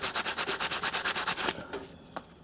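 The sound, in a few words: cleaning brake pad contact surfaces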